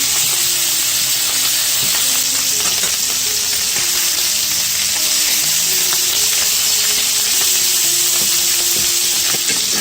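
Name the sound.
Rookworst sausages sautéing and browning in a pan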